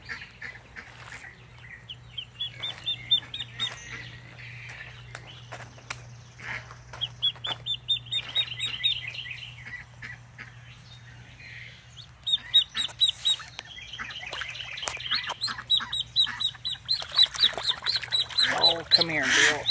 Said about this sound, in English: Silly little ducky.